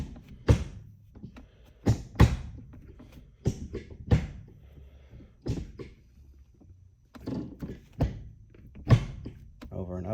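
A solid-mount gear shifter in a Genesis Coupe is moved through the gears, giving a series of short, dull mechanical clunks and thunks at irregular intervals, close and fairly quiet, alongside occasional speech.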